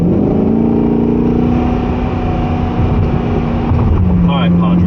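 A 2024 Corvette Stingray cruising at speed, a steady droning engine with rising and falling tones, wind rushing past, and people talking over it throughout.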